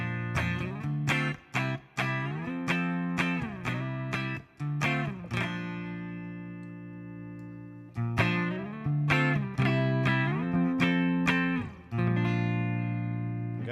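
Electric guitar played clean through a Fender Princeton Reverb amp: bright plucked notes and strummed chords ring out with sustained tails, pausing for held chords between busier bursts, fairly quiet and with no talking.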